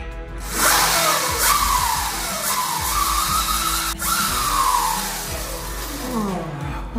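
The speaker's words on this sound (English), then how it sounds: "Time to plug it in and throttle it up." A newly built electric mini dirt bike's motor is throttled up on the bench. It gives a whining tone that rises and falls in several sweeps over steady mechanical hum, fairly close and continuous, with no talking.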